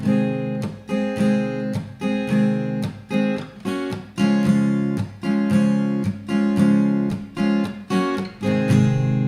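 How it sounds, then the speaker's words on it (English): A song is played on guitar with percussive strumming, giving steady rhythmic chords broken by sharp muted slaps on each beat. The playing is close and loud, with no talking. "There's a percussive way of playing it, which is a little harder,"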